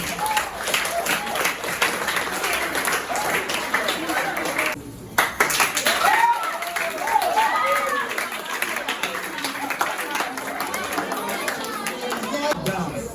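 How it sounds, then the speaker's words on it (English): Applause from a school audience at a junior secondary debate, continuous clapping mixed with crowd chatter and voices, briefly dipping midway before resuming at steady volume. "Please, once again, applaud the set of 4 people that came out now"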